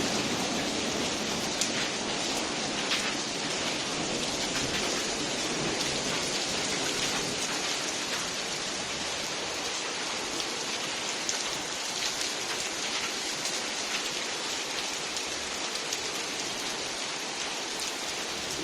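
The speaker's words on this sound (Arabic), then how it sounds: "ايش رايك بالمطر؟ مطر عالي عالي." Heavy rain pours steadily in Qamishli during a storm with flooding, a dense, unbroken roar of close rainfall holding at even loudness for the whole stretch, with no voices.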